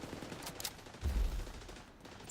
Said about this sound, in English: They heard gunshots.